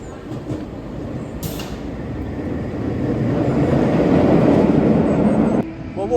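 A Nemesis roller coaster at Thorpe Park runs, a loud rushing, rumbling roar that builds over several seconds and then cuts off abruptly, heard close.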